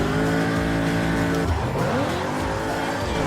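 A racing car engine roars at high revs in the video game Burnout Paradise, then tires squeal as the car slides, the pitch wavering as it skids.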